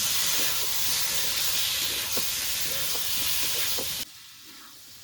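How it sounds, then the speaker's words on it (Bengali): Potatoes and mushrooms with spices stir-fry in a hot pan, a loud hissing sizzle with repeated spatula scrapes, then the sound drops off abruptly to near quiet near the end. "মাশরুমগুলো দিয়ে দিয়েছি এবার নেড়ে চেড়ে আরেকটু কষিয়ে নেবো"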